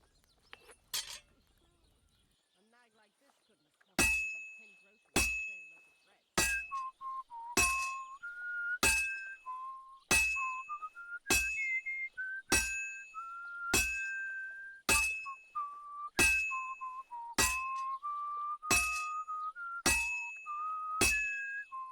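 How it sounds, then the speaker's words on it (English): Melodic whistling by a character working at a forge in Kingdom Come Deliverance 2, the tune carrying under a steady series of sharp ringing hammer strikes on metal, roughly one per second. "That's not me whistling,"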